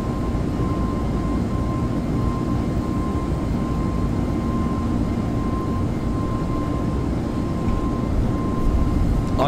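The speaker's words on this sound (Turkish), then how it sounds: "bir uçak kalktı şimdi" Steady broadband engine roar from an airliner taking off in the X-Plane 11 flight simulator, a constant loud drone with a faint steady hum above it, continuous and unbroken throughout with no voices.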